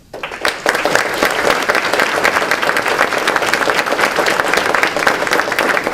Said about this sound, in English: So I want to give each of you a round of applause and thank you for being here today.